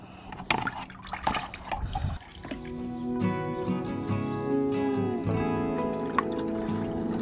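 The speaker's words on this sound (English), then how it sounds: "now it's time to go outside and we're going to do some water table play" Water splashes and trickles as toddlers play at an outdoor water table, with irregular splashes first and then a steady pouring, running flow that continues to the end of the clip.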